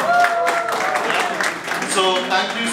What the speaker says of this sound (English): So a round of applause for Walt.